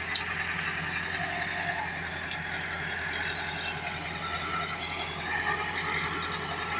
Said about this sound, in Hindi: माशाल्लाह गाड़ी बहुत ही सुकून से आ रही है